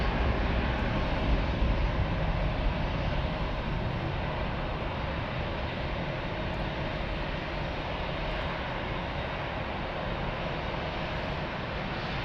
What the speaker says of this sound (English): That's Lufthansa flight 332 on its way to Venice.